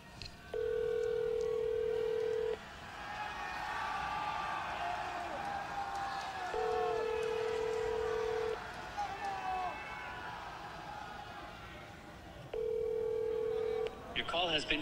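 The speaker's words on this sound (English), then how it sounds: "I'm calling Adam" A telephone call being dialed and ringing out, with three long steady ring tones spaced evenly apart under faint background murmur and a brief noise at the end.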